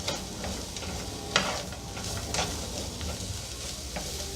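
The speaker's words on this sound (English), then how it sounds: "I'm just going to go ahead and get the cabbage stirred in there" Cabbage sizzles in a hot frying pan while a utensil stirs it, giving close, steady frying crackle broken by a few louder scraping strokes.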